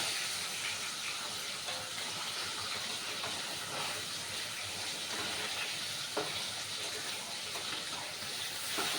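Fish frying in a pan for a tomato katla fish dish, a continuous faint hiss and crackle of hot oil, steady and unbroken, with a few soft ticks.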